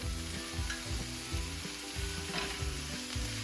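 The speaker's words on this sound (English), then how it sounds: "Now that all the shrimp are chopped up, we can go ahead and toss them back in." Chopped shrimp sizzle in a hot pan for tacos gobernador, a steady close frying hiss with rhythmic stirring and scraping strokes repeating about every half second.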